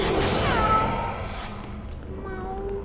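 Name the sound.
cat pet meowing in video game Blade and Soul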